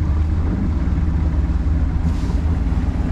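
A 1995 Blue Fin boat's 50 hp two-stroke outboard motor runs as its throttle is worked, giving a steady, close, low droning rumble that holds for the whole stretch with no talk.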